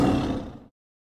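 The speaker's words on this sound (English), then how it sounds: "T for tiger." A tiger's roar, a single loud, deep burst heard up close and alone, fading out over about half a second.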